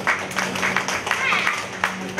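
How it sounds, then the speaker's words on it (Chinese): An audience claps in scattered bursts for singer Selina as she shares her feelings about her comeback, with a voice talking over the applause. "给他掌声鼓励"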